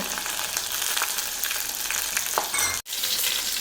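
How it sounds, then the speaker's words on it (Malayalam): Ginger, garlic and green chilli sizzle and crackle steadily in hot oil for a fish curry, a dense close frying hiss with brief stirring and one sudden short break near the end. "ഇനി അല്പം ഇഞ്ചിയും വെളുത്തുള്ളിയും പച്ചമുളകും കൂടെ ചേർത്ത് കൊടുക്കുകയാണ്"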